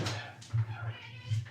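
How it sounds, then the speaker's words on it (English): A house cat meows a few times to be let in, fairly soft and partly masked by people talking nearby indoors. "You could probably hear our cat in the background. I think he wants in."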